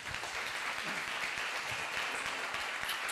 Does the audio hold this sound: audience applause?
yes